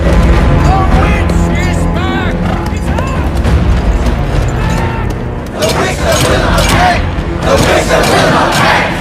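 A large crowd roars and bellows in a dark fantasy film scene, a thick, loud rumble of massed voices with some crashing, while a narrator speaks over it throughout.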